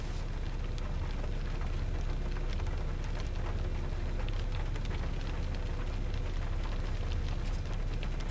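Steady rain drums on the roof and glass of a 2012 Buick LaCrosse eAssist during a rainstorm, a dense, even hiss with scattered drop taps continuing throughout the cabin, no voices.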